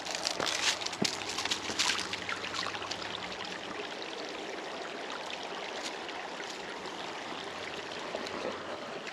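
Steady broadband rush of a flowing stream, continuous and fairly close, with a few faint clicks and splashes near the start.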